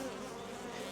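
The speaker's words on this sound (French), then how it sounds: "on chasse les abeilles qui sont dessus" Honeybees buzz in a dense, steady swarm close by while frames are lifted and shaken during a honey harvest, a continuous droning hum with no pause.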